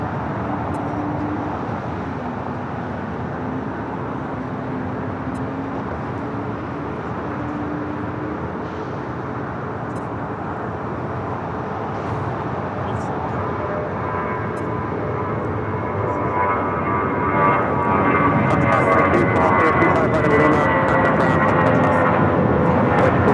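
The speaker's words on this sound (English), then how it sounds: "We have the All Nippon Airways Dreamliner rolling on 24 left." An All Nippon Airways Boeing Dreamliner rolls for takeoff on runway 24 left at Los Angeles International Airport, its jet engines a steady broad roar that builds and rises in pitch as the aircraft accelerates.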